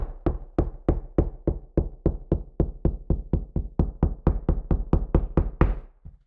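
Repeated knocking on a wall while searching for a stud, roughly twenty-five evenly spaced, sharp knuckle raps heard up close over several seconds before stopping, with no voices.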